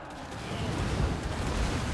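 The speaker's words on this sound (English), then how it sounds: "Point blank shots coming in from the Hellstorm." Hellstorm rocket battery fire in a Total War Warhammer 2 battle rumbles as a dense, continuous barrage of booming shots under a thick wash of noise.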